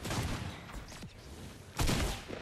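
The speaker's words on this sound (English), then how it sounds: "And the new gun is called the lever action shotgun." A lever action shotgun fires in a video game, two loud booming blasts, one at the start and one near the end, separated by a quieter stretch.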